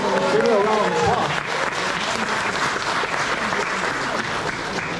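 Dense audience applause fills a hall at a Rise of Kingdoms community meetup in Frankfurt. It holds steady and loud throughout, and a voice is briefly audible over the clapping near the start.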